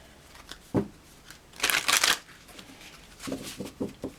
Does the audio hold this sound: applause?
no